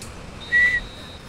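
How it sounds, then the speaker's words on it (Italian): A referee's whistle blows once in FIFA Mobile, the football video game, marking full time. It gives a single steady, fairly loud blast of about a quarter second over a low background hum. "Ora mo l'arbitro fischia"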